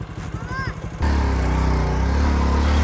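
A motorcycle ridden in first gear, its engine a loud, steady close drone that starts abruptly after a second of faster putter under a voice, then runs continuously.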